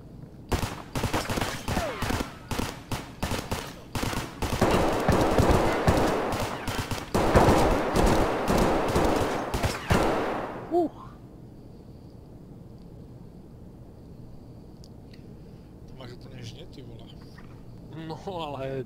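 Gunfire in Escape from Tarkov, with enemies shooting back in dense, loud rapid bursts for about ten seconds before it stops abruptly, leaving a quiet hum and faint distant sounds.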